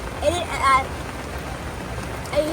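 Steady rain falls outdoors during a paddling trip on the Mississippi River, a soft continuous hiss of drops with faint voices speaking underneath.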